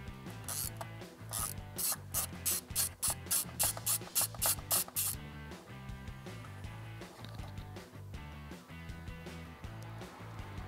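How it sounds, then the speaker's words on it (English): A ratchet turns a BMW spark plug tool on a long extension, clicking in a fast, close, regular burst of about a dozen strokes, then giving way to quieter mechanical rubbing and handling. "Now we're going to remove the spark plug."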